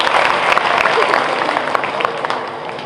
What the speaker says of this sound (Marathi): विद्यार्थ्यांनी त्याच्यासाठी टाळ्या वाजवायचं